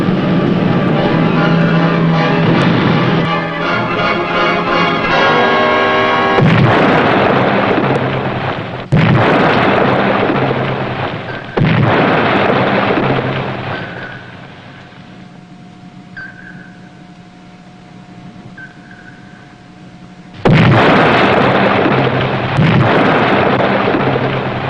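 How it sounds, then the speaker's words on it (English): Submarine depth charge attack: several heavy, booming blasts strike at intervals, each ending in rumbling decay, with a faint sonar ping tone in a quieter stretch between them. "Rig for depth charge attack."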